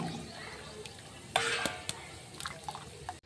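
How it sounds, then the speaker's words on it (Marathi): Cooked dal with fresh coriander is stirred in a pot, giving soft wet stirring and faint bubbling with a few clinks of a spoon against the metal, fairly quiet and close. "आता आपण टाकून त्याच्यावर थोडीशी कोथिंबीर आणि कोथिंबीरला छान फिरवून घेऊ"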